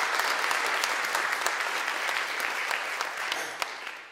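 Steady applause from an audience at a student union enterprise awards ceremony in Galway, a dense even patter of many hands that holds for several seconds and thins slightly toward the end.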